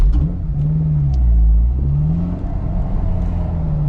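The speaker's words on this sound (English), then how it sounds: "Blipping the throttle." A manual-transmission car engine is blipped by throttle, rising in a quick rev and falling back twice over a steady idle, loud and close.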